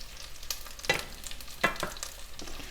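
Fish fries in a very hot cast iron skillet with a steady crackling sizzle. A few sharper pops and scrapes stand out close by, and no one speaks.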